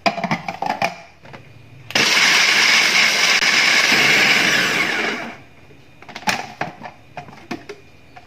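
A blender grinds corn kernels in one loud, dense burst of about three and a half seconds, starting abruptly and trailing off, bracketed by quieter clinks and handling noises before and after.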